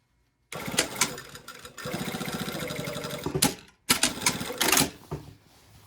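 Close sewing machine top stitching a coat lining, starting abruptly and running in a fast rattling stream, pausing briefly, then resuming in shorter bursts before stopping, with no talking.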